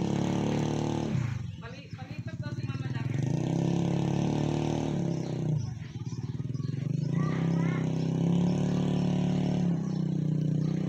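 A motorcycle engine labors and revs on a flooded road after heavy rain as its tire slides, its drone rising and dipping in surges, with voices talking nearby over the engine noise.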